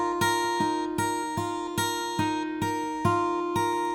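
Acoustic guitar fingerpicks the intro riff of a song, a bright plucked figure with regularly spaced notes ringing over one another, close and clear with no voice.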